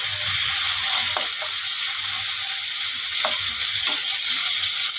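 Small chuno fish frying in hot oil in a pan, a steady dense sizzle with occasional sharper pops and clinks of stirring, close and continuous with no talk.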